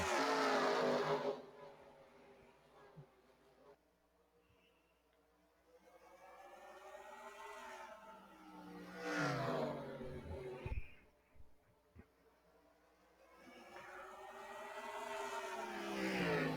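Race cars start a race at South Boston, engines roaring loudly as the field accelerates, with repeated rising and falling passes that fade out and then return, and little talk over them.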